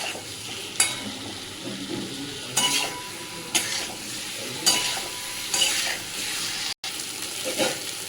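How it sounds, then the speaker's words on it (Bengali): Boiled potatoes fry with spices, sizzling steadily in a hot pan while a utensil stirs and scrapes at intervals, close and fairly quiet. "যে একটু ভাজা ভাজা করে নেব মশলার সাথে।"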